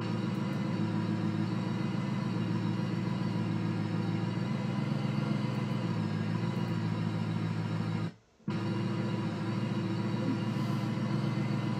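Wentward DT40L bus engine from a video game drives with a steady low droning hum and rumble, quiet and constant, broken by a brief dropout near the end.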